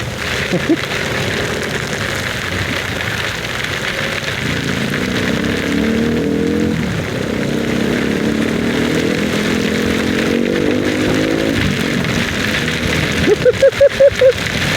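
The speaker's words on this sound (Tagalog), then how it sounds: "Nabutan ng malakas na ulan" A motorcycle engine drones and shifts pitch while heavy rain hisses steadily around it, with wind noise throughout and a few sharp knocks near the end.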